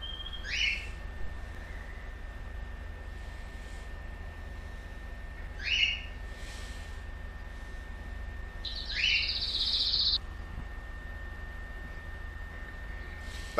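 Birds chirp in a video game world, GTA V Online, three short bright calls spaced a few seconds apart over a low steady ambient hum, fairly faint and without any talk.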